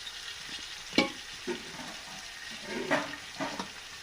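Onions with mint and coriander leaves roasting in a pan for beef biryani, a soft steady sizzle broken by several scraping spatula strokes, close and fairly quiet with no talking.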